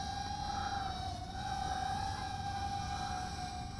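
A UDI i251HW folding FPV camera drone lifts off with a steady high-pitched whine from its small propellers, the motor tone wavering slightly as it climbs, constant and fairly close.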